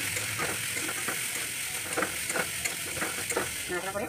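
Small potatoes tossed with turmeric, cumin and coriander are stirred in a hot pan, giving a continuous sizzle broken by repeated scraping and clacking spoon strokes at an even pace, close and fairly loud, with no talk.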